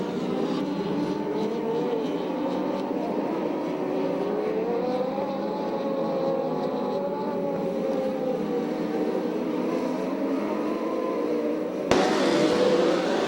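USAC/CRA sprint car engines roar around a track in a sustained, wavering drone of several cars running together, loud and continuous, with a sudden jump in intensity near the end.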